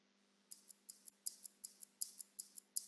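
Quiet, crisp ticks in a steady quick rhythm, close up, against near silence and a faint low hum.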